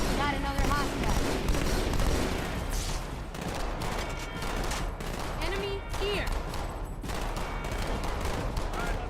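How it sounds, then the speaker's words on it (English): Marines' gunfire in the video game Halo 2: Anniversary crackles as dense, sustained bursts of popping shots throughout, mixed with game effects and a brief spoken line. "The gunfire from the Marines sounds really good. They actually sound like authentic gunfire pops."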